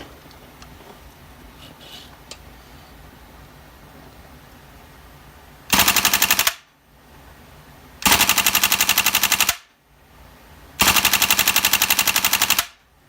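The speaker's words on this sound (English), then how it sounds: "Just gonna do some test shots real quick" Three full-auto bursts from an M240B gas blowback airsoft gun fired at about 100 psi, each a loud, rapid rattling string of shots lasting a second or so, separated by short pauses in a quiet room.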